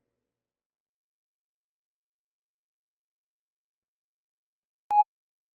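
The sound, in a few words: voicemail beep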